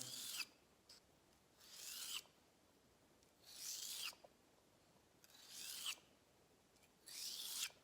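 A round leather knife's edge is brushed over to flip the burr, giving five separate raspy rubbing strokes, each about a second long and evenly spaced. They are close and moderately loud against a quiet background.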